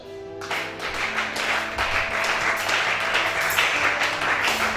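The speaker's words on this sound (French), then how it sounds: "Acclame chacun." Applause from a congregation at a church service, broadband clapping that rises quickly and holds steady, with a sustained musical tone underneath.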